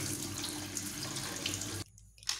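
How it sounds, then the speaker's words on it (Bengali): Tap water runs steadily into a sink while a bottle gourd is washed, a continuous close splashing hiss that stops abruptly near the end with a brief splash after. "আমি এই লাউটিকে বেশ ভালোভাবে এইভাবে ধুয়ে নিচ্ছি।"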